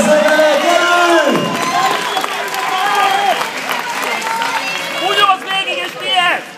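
A crowd at a boxing gala in Szentes applauds and cheers through the final round, with a steady wash of clapping and shouts under a loud, continuous announcer's voice.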